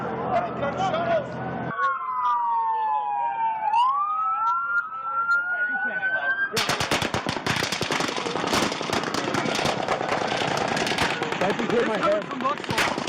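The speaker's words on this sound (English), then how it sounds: "There's gunshots coming from over there!" A wailing police siren rises and falls during a shooting in Las Vegas, then rapid bursts of gunfire crackle on and on, with people talking and shouting.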